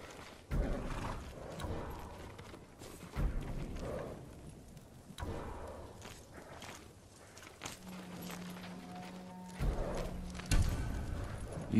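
Horse hooves clop in heavy bursts with a snorting whinny in Ghost of Tsushima, samurai horses heard close over quiet game ambience, no talking.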